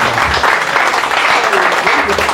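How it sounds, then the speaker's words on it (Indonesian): Church congregation applauding and cheering steadily during a worship service, a dense continuous wash of clapping and voices with no break throughout. "Berikan sorak-sorai"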